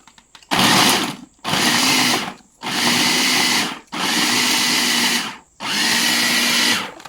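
Household appliance grinding apples into pulp for homemade cider, sounding as four loud bursts of coarse whirring, each a second or more long, separated by short silent pauses.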